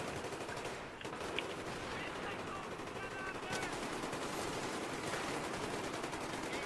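Gunfire in the video game Battlefield 3 during a Métro conquest match, dense continuous bursts of automatic fire with a steady rattling roar throughout, fairly distant and even in level.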